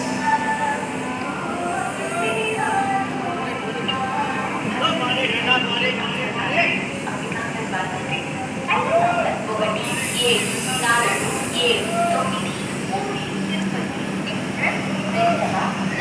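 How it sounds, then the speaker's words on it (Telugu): At a station, the Puri–Tirupati Express passenger train stands with a soft hiss and a continuous mechanical hum, while people talk nearby. "పూరి తిరుపతి ఎక్స్ప్రెస్"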